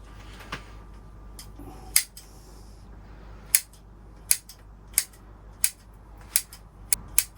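Green scissors trimming length off the top of someone's hair, giving a series of sharp, close snips spaced irregularly, about ten crisp clicks over a quiet background with no talking.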